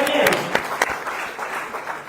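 Audience applause after a trade union is introduced at an evening gathering on migrants, refugees and international solidarity in Hackney, a short burst of clapping mixed with a few voices that fades quickly.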